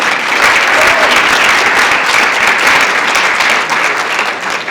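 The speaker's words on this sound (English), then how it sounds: "I think that deserves a round of applause." An audience at a real estate Instagram training event breaks into loud, sustained applause, dense clapping that holds steady for several seconds before tapering slightly.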